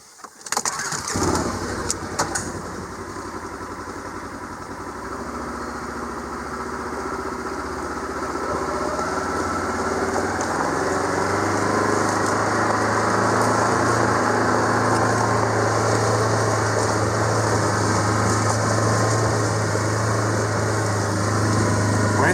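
A Polaris Ranger utility vehicle cranks and starts, then settles into a steady, close, loud idle that continues without interruption, with no voices over it.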